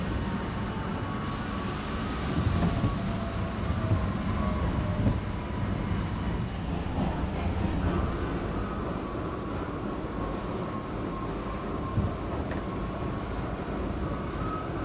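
A subway train on the M line, lead car 8362, runs with a continuous loud rumble and steady whine from inside the car, without any talking.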